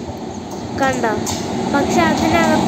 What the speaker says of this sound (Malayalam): അപ്പൊ ഗൈസ് ഒരു ട്രെയിൻ വരുന്നുണ്ട്